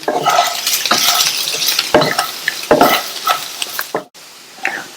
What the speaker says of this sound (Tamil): இதுல பொடியா கட் பண்ண கொத்தமல்லி இலைகள் சேர்க்கிறேன். மிக்ஸ் பண்ணி விட்டுறலாம்.